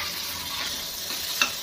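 Gram flour roasting in oil in a pan while stirred, a steady close sizzle with soft scraping strokes and one brief clink of the spoon near the end, no talk.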